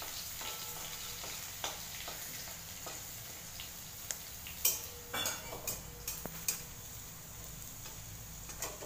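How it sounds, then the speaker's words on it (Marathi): Crushed garlic hits hot oil in a pan, giving a steady low sizzle with scattered ticks and a few sharper crackles and pan clinks partway through. "आता लसण टाकते. लसण ठेचून घेतलेलं आहे."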